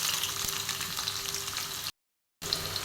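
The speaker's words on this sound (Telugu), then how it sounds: "ఇప్పుడు ఒక మీడియం సైజ్ ఆనియన్ని వేస్తున్నాను" Onion fries in oil with fenugreek and cumin seeds, a dense continuous sizzle that cuts out briefly for half a second and then resumes, with no talk.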